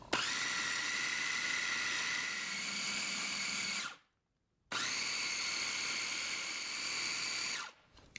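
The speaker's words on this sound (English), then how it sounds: "we're gonna blend it back and forth until it looks smooth and creamy" Blender whirring through cottage cheese chocolate mousse in two steady high-pitched runs, nearby and continuous, split by a brief silent pause before the second run.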